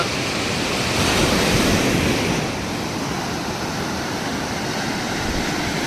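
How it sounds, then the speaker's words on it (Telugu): Steady roar of surf washing ashore on Krishnapatnam beach near Nellore, a broad rushing wash that swells briefly then settles, with wind buffeting the microphone. "అలలు అయితే దూకుతున్నాయి"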